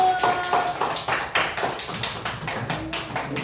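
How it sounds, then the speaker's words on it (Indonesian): Scattered hand claps from a small audience for the first group at a teacher-training presentation, sharp and uneven, fairly close and moderately quiet, the claps landing in a loose irregular rhythm. "kasih tepuk tangan buat kelompok 1"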